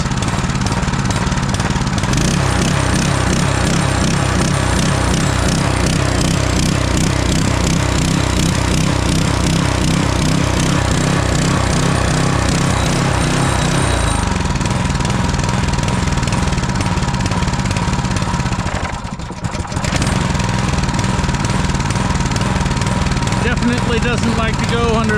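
A Duramax 212cc bi-fuel small engine runs on propane with a loud, steady, close chugging drone that holds for the whole stretch, its pitch shifting slightly as the speed changes.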